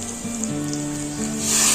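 Chopped capsicum frying in a pan for a potato capsicum rice dish, giving a steady close sizzle that brightens and grows slightly louder toward the end, with no talking.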